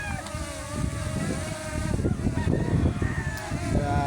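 An L200 Pro Max drone's propeller motor whines steadily against gusty wind, its tone wavering and sliding in pitch under heavy rumbling wind buffeting on the microphone.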